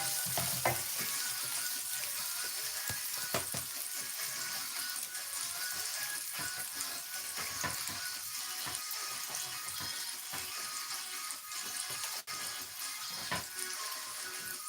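Onions cooking in a pot for cream of asparagus soup, a soft continuous sizzle with occasional scraping stir strokes, fairly quiet and steady throughout.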